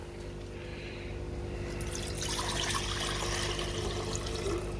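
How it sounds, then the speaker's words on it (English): Liquid from a gold refining process pours into a larger beaker, a steady trickle that swells into a fuller, splashing pour partway through, close and fairly quiet. "I'm going to pour it into the bigger beaker"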